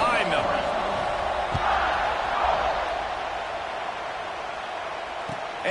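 A College Football 26 stadium crowd cheers at kickoff, a loud sustained roar that fills the space, with a few thuds in the first seconds.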